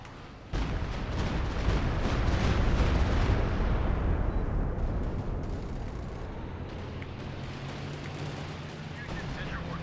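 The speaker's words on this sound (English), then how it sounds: "Calliope opening fire." Calliope rocket artillery launching in Company of Heroes 2, opening with a sudden loud onset of rapid rocket fire and booming battle noise that gradually thins into a lower continuous rumble.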